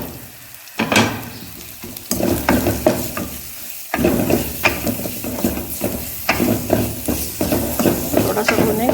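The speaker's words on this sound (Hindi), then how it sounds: "थोड़ा सा भूनेंगे, कच्चापन खत्म हो जाए।" Spices roasting in a pan for an aloo naan filling, with a soft sizzle broken by repeated scraping stirs; brief quieter spells interrupt the clattery stirring.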